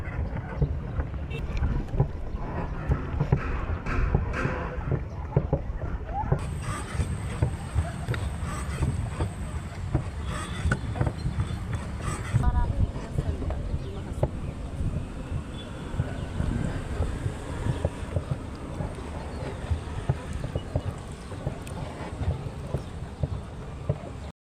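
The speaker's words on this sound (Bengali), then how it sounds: "আমরা এখন বোটে উঠব 15 মিনিটের জন্য" A boat ride on Haflong lake in Assam, with a continuous rumbling engine and water wash, gusting wind buffeting the microphone throughout, and some faint voices in the background.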